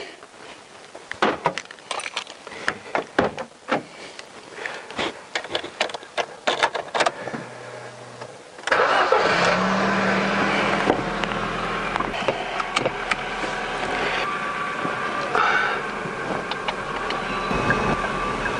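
A Ford Focus heads out on a test drive after a driver's side driveshaft fitting and gear oil top-up. Scattered clicks and knocks give way to a steady, loud rumble of engine and road noise from inside the moving car.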